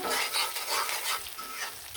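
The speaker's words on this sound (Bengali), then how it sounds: "পেঁয়াজটা লাল হয়ে আসা পর্যন্ত ভাজা ভাজা হয়ে আসা পর্যন্ত অপেক্ষা করবো" Chopped onions fry in a pan for a Bengali hilsa fish dish, giving a steady, close crackling sizzle with light stirring that runs throughout without any talking.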